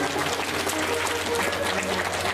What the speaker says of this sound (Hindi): जोरदार ताली सुखदेव भगवान के लिए